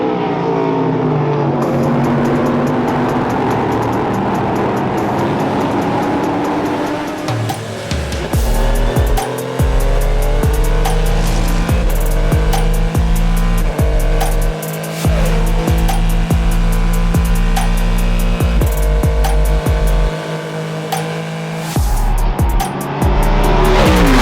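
A classic race car at speed on the Watkins Glen circuit during an HSR endurance race, its loud engine drone repeatedly stuttering and cutting out in short gaps from a misfire, heard from onboard without talk.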